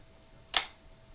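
A 35mm SLR film camera's shutter fires once on the bulb setting, giving a single short mechanical click close up against a quiet background.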